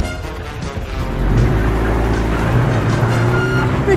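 A car being driven away by robbers, its engine rumbling and rising from idle into a steady, loud, close drone, with no one talking over it.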